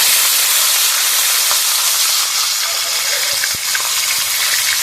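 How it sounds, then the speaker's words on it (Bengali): Katla fish heads fry in hot mustard oil in a kadai, a loud, steady hiss and sizzle close up with a few sharp crackles and no talking. "মাছের মাথাগুলো ভেজে নেব।"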